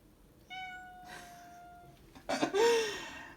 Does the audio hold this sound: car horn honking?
no